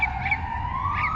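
Police car siren wailing through Port of Spain traffic, a steady rising electronic tone over a low rumble of street noise, loud and continuous with no talk.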